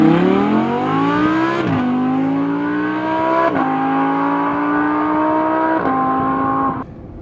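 An Audi R8 V10 Plus launches hard and pulls through the gears. Its engine note climbs loudly in three long surges, each broken by a quick upshift, and it stays close and continuous throughout.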